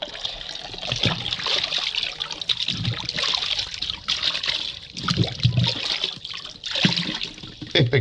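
Water sloshing and splashing as neoprene wetsuit boots are washed by hand, a continuous close trickling and swishing with irregular bursts of louder splashes, no voices.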